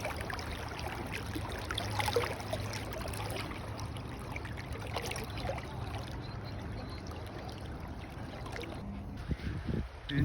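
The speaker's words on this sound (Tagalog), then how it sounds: "Lakas ng agos." A strong river current rushes past in a steady, loud, broadband roar of moving water that holds for the whole stretch, with no voices.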